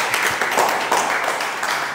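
Audience clapping on a dating game show set in Miami, an even, continuous wash of applause from a group with no speech over it.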